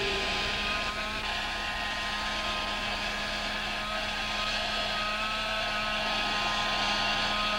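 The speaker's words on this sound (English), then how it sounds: "Looks as if it would stay there forever, providing you didn't switch off the hairdryer, Tom." A hair dryer blows with a steady, unbroken whooshing roar from start to finish, close and constant, holding a ping-pong ball aloft in its airstream.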